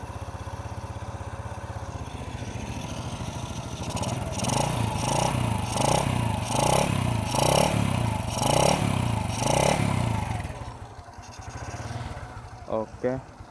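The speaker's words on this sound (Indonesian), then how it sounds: "nih kalian kalau mau lihat denger suara mesinnya" A 2007 Honda Revo motorcycle engine with an open air filter idles close by, then is revved repeatedly in a steady rhythm of rising bursts before dropping back toward idle.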